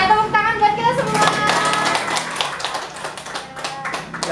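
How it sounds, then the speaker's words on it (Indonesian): A group of community health volunteers clapping hands together at an indoor gathering, starting after a brief bit of voices and music and continuing as brisk, uneven claps. "Oke, tepuk tangan buat kita semua"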